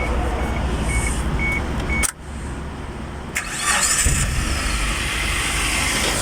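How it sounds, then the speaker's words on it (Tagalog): A Suzuki APV with a newly installed ignition coil cranks briefly, catches and settles into a loud, steady, smooth idle close by. "Now after installing the coil, let's start the car."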